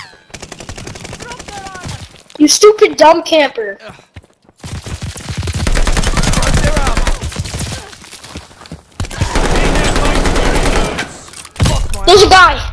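Bursts of pistol gunfire in the video game Arms Race, rapid cracking volleys in several clusters, loud and close, with excited talk between and over the shots.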